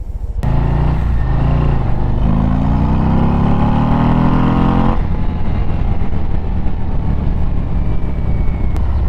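A Harley-Davidson Road Glide ST motorcycle engine rumbles loudly while riding, pulling up in a low gear with rising revs, then settling into a steady deep drone with wind noise.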